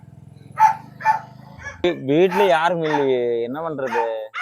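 A dog barks in short, sharp yips, two clear barks at first and then a longer whining, howling call, close by, while someone talks over it.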